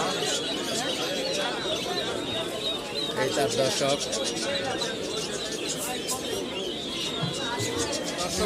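Pigeons coo and chatter throughout a busy pigeon market in Zinjira, Bangladesh, a dense flock sound beneath someone talking steadily nearby.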